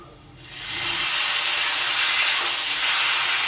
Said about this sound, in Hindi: अब इसमें आलू डाल के 1 से 2 मिनट तक फ्राई कर लेंगे। अब मैं इसमें टमाटर डालूंगी।